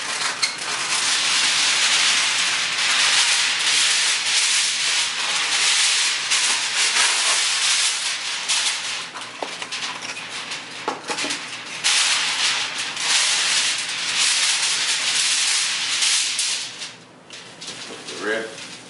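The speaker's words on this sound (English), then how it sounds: "we take and then break off some aluminum foil" Aluminum foil crinkles and tears loudly and continuously for about seventeen seconds in a kitchen while pork spare ribs are prepared for barbecue, with a broad rustling hiss fading near the end.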